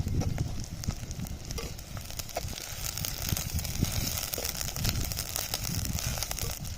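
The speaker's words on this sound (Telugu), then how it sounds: "ఉల్లిగడ్డ ఇట్లా మంచిగా ఫ్రై కావాలి" Onions frying with ginger garlic paste in a pan for a village-style gongura chicken curry, a steady dense sizzle with soft crackles and occasional stirring scrapes, close and continuous throughout.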